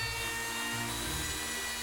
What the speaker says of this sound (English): Now I'm rounding the edges, the round over bit in my router.